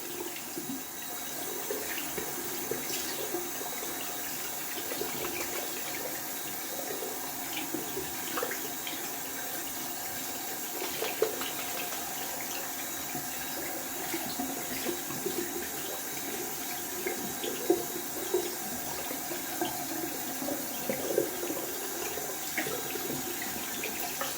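A tap runs steadily as a boar-bristle shaving brush is rinsed out under it, a close, continuous water hiss broken by occasional splashes and drips.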